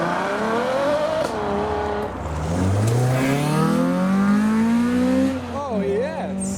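A yellow Ferrari FF drives past at a supercar show, its engine revving and climbing through rising, sweeping notes as it accelerates close by, with crowd noise around it.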